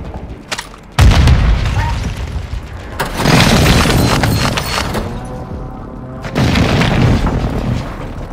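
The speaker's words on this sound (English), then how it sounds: "Enemy precision airstrike." Precision airstrike explosions in Warzone, three heavy booming blasts a couple of seconds apart, each crashing in loud and rumbling away, with voices talking faintly between them.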